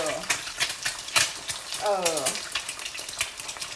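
Eggs fry in hot oil in a pan, sizzling and crackling steadily, with scattered pops and a brief scraping stir partway through.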